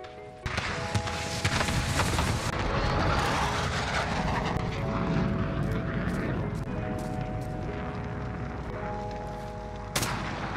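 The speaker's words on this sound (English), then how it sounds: "Got the VTOL on station, ready to deploy." VTOL aircraft killstreak from the video game Modern Warfare: a loud, continuous roar of engines and gunfire with steady tonal hums, heavy and sustained throughout, with no voices.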